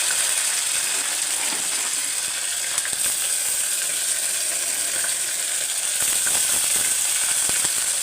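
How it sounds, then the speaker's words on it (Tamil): Onions fry in a pan for tomato rice, a loud, continuous close sizzle with crackling and occasional faint scraping from stirring throughout. "வெங்காயத்தை போட்டு நல்லா வதங்கட்டும்"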